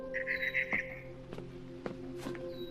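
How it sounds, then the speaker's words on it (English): Barn swallow chirping just outside a window in the video game What Remains of Edith Finch: a quick run of bright, high chirps near the start, with a few faint clicks and soft steps over a steady low in-game hum. "Then I heard chirping outside my window."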